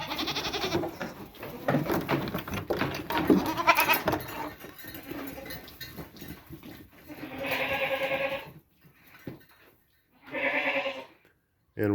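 Goats on an off-grid homestead bleat loudly up close in the morning, with several overlapping calls early on, then two distinct long bleats later separated by quieter stretches.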